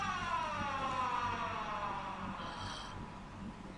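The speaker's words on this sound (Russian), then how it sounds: "слышу сирену" A wailing electronic siren in the Siren Head video game, with falling, wavering pitch, rises over a quiet hissy background, fairly faint and distant.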